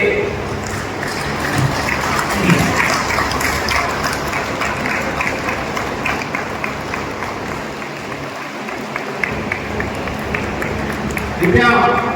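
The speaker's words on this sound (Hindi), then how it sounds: "कृपया तालियों से गड़गड़ाहट से उनका स्वागत करेंगे" An audience at a Chhattisgarh electricity workers' union convention claps to welcome a guest, a dense, sustained wash of applause with an amplified voice running over it.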